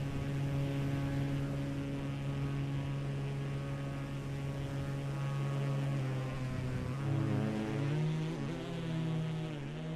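A steady propeller aircraft engine drones in a flight simulator during a Red Bull Air Race stunt flight, humming loudly and continuously before its pitch shifts and wavers as the throttle drops.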